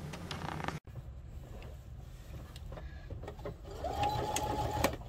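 A sewing machine stitches closed the seam of a garden kneeling pad with webbing inside, running in a steady continuous whir close by, briefly stopping near the start and then picking up again, louder toward the end.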